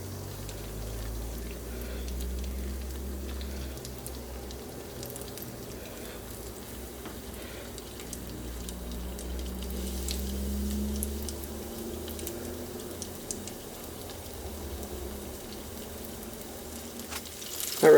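Stuffed aubergines deep frying in hot oil in a deep fryer, giving a steady low bubbling sizzle that holds throughout with no talk, ending in a brief louder knock.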